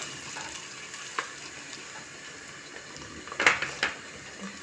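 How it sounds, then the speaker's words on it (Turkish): Onions frying in a pan for a Turkish dried bean stew: a steady, soft sizzle runs throughout, broken by a few brief clinks and stirring scrapes near the end. "Soğanlarımı güzelce kavuruyorum."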